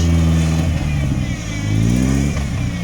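A Suzuki Samurai with a 1.8 engine revs hard at high RPM, a loud, close, sustained engine roar that dips briefly midway and then climbs again, heard alone without talk.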